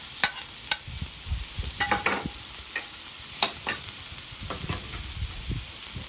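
Sausage and cabbage stir fry sizzling on a flat top grill, with a steady hiss and scattered sharp clacks and scrapes of the spatula against the griddle, close and without voices.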